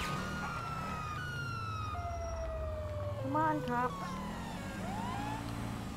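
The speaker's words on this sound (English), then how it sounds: "I'm just gonna keep my sirens on" Police car siren in Grand Theft Auto V, wailing tones rising and falling over rumbling engine and traffic noise at moderate distance, with a person briefly talking over it.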